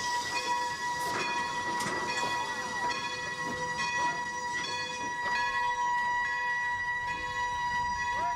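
A steam train runs along the Sacramento River toward Sacramento, giving a steady, fairly loud rolling clatter with sustained whistle-like tones and repeated sharp clanks throughout.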